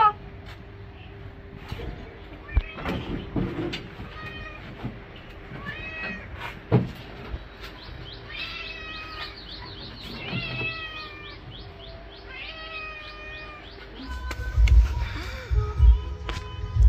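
A cat meows repeatedly right after being bathed, a string of close, drawn-out cries with a hum and knocks in a home, and a few short voices near the end.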